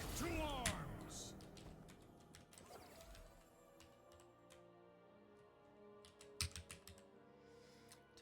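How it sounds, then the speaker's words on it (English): Rapid typing on a computer keyboard during a competitive gaming match, a steady patter of soft key clicks under a faint tonal background, with a few louder taps toward the end. "Typing madly."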